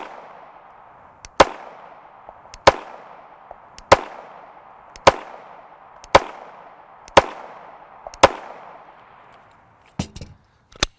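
Eight sharp 9x19mm pistol shots from Black Hills 115gr ammunition, fired one at a time at a steady pace of roughly one per second, each a loud crack with a short tail, followed by a few fainter clicks and a softer pop at the end.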